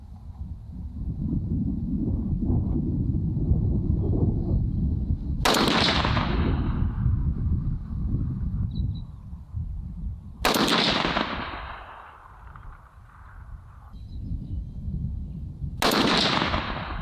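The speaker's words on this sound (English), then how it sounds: "Be shooting the top left corner of the" An LR308 rifle fires three loud, sharp shots at a distant target, spaced roughly five seconds apart, each with a short echoing tail, over steady wind rumble on the microphone.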